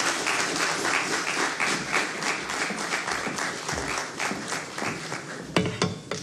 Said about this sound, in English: a bigger round of applause for her